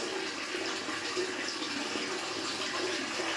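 A bathroom water tap runs steadily, making a constant, close rushing splash throughout.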